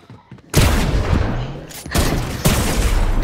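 Sniper shots in the video game Fortnite, a sharp close burst of gunfire followed by a dense, loud crackling barrage with a second blast near the end.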